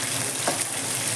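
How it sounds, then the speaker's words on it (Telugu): Four or five finely chopped green chilies hit well-heated oil for semiya upma, giving a loud, steady, close-up sizzle with a brief spatter burst in the middle. "ఆయిల్ మంచిగా హీట్ అయింది కాబట్టి మనము కావాల్సినటువన్నీ వేసేద్దాం"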